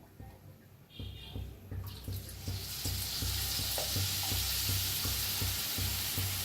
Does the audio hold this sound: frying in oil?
yes